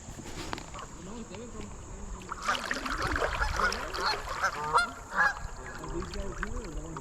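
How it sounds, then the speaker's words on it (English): Canada geese on the Cumberland River honk repeatedly in a clustered, overlapping chorus at moderate distance, while people talk nearby over a steady background hiss. "Those geese have black heads instead of the white that I normally see."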